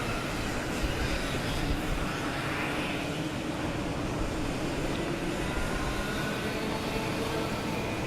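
Racing karts in a cadet-class karting championship race in Singapore sweep through a fast turn on the circuit, giving a steady, dense engine drone that continues unbroken throughout with no voices.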